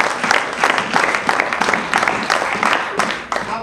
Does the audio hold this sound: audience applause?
yes